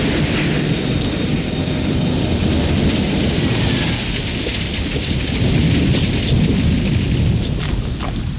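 Heavy rain pours down steadily during a thunderstorm, with a constant loud hiss of drops on surfaces and low rumbling thunder underneath, continuous throughout.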